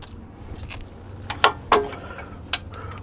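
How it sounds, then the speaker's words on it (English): Levers clack into place as the push frame locks to the push cradle of a cold planer on a Trackless MT, a few sharp metallic clunks and ratcheting clicks, close and distinct, with no voices. "you will lock the push frame and push cradle together by locking the levers in place on both sides"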